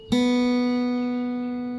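One bright plucked open second guitar string rings on its own, sustaining steadily with a gentle fade.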